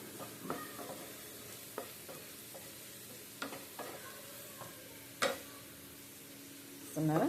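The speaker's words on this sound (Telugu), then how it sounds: "సరే, ఇప్పుడు బాగా కలుపుతాము." A spoon stirring a spiced mixture with chili powder, turmeric and coriander powder in a pan, quiet soft sizzle with a few scattered scrapes and knocks and a louder clatter near the end.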